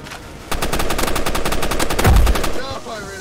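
Rapid automatic gunfire from a weapon in the video game Banana Shooter, a fast, dense stream of shots lasting about two seconds and ending in a louder burst, with no talking over it.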